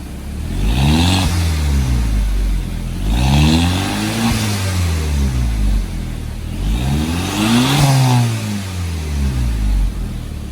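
Volkswagen Mk5 GTI engine with a newly installed downpipe revving three times, each rise and fall of engine pitch clear and loud up close, with no talk over it.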